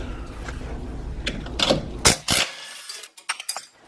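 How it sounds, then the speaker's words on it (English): Impact wrench on a sway bar link nut of a 2016-2021 Honda Civic: a few short rattling bursts of hammering close by, followed by scattered metallic clicks and taps as the tool stops. "So we'll try the impact way first."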